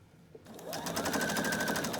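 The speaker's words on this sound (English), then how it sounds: "So I'm gonna sew the entire length of this" Sewing machine running steadily, stitching a long seam of pillow fabric at a scant quarter-inch seam with a 2.5 stitch length; a rapid, even mechanical whir starts after a short pause and continues close and loud to the end.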